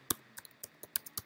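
Quiet typing on a computer keyboard, about seven separate key clicks in an uneven rhythm, close and faint.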